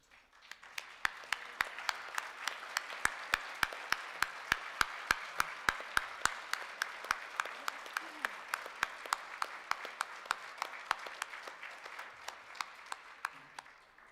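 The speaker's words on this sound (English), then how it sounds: "now if you could all stand and we will give you a round of applause" At the 2013 South Dakota Governor's Awards in the Arts, a crowd applauds standing honored artists with a sustained wash of clapping and a steady rhythmic beat of sharp, louder claps running through it for about fourteen seconds, fading slightly at the end.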